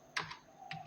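Brief typing on a computer keyboard while working in an MS Excel formula: three quick, faint, close key taps ending with a press of the Enter key, alone in a quiet room.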